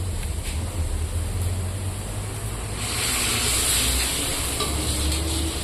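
Green chillies frying in a pan for coconut rice give a steady, close sizzle that swells louder and brighter halfway through, with a continuous broadband hiss over a low rumble and no talk.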